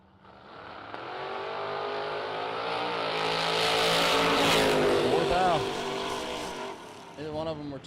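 Drag racing cars, one a 1955 Chevrolet, launch and roar loudly down the strip in a sustained rising engine blast, with an announcer talking over it.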